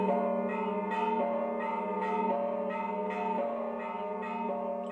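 Church bells in Bethlehem ring at dawn with clear, repeated strikes about once a second, each tone ringing on into the next, steady and resonant with no voices.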